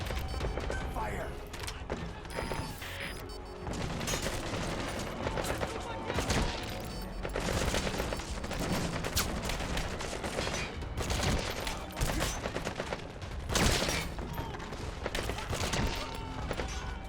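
Rapid video-game gunfire from Metal Gear Solid V: The Phantom Pain, dense bursts of shots and heavy thuds with explosive booms running throughout, loud and continuous, with a voice talking over the action.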